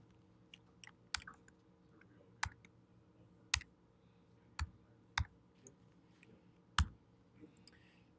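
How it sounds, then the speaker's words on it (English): Sparse, quiet keystrokes on a computer keyboard, a handful of separate clicks spaced irregularly across a near-silent room as a short arithmetic expression is typed and entered. "we're just going to type in 7 times 3 plus 2 and hit enter"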